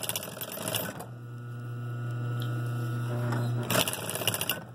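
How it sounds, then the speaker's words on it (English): A sewing machine stitching welt cord lining fabric, a loud steady mechanical whir lasting about three seconds, framed by brief clattering handling noises before and after. "And this is how we sew it up."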